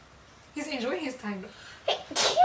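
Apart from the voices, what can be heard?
sneeze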